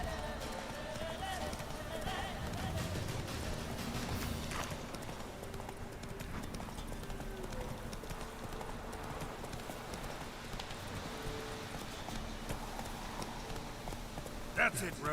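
Roach, the horse in the video game Witcher 3: Wild Hunt, gallops with steady clip-clop hoofbeats under constant game noise and someone talking over the action.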